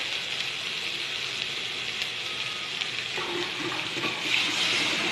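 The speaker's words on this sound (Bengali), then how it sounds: "এখন আমি জল দিয়ে দিলাম এক বাটি" Water poured from a bowl into an egg and potato curry simmering in a pan, a steady close sizzle and rush of liquid that swells louder toward the end, with no talking.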